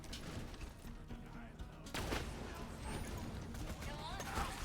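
Sniper rifle shots ring out in a game, with a sharp, loud blast near the midpoint standing out over dense background game noise and chatter.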